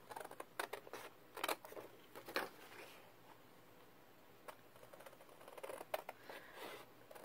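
Scissors snip paper in short, irregular bursts of crisp cuts, close and fairly quiet, while a paper pocket insert for a lunch sack is cut out by hand.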